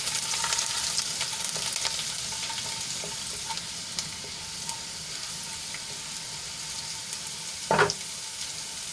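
Chopped garlic sautéing in hot oil with mustard seeds, cumin and asafoetida, a steady close sizzle and crackle throughout with a brief louder burst near the end.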